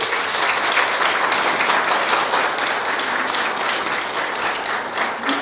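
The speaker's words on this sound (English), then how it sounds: "So a round of applause to Lynn, please." Audience applause at a book launch, a dense, steady wash of many hands clapping close by that holds at full strength throughout, with no talking over it.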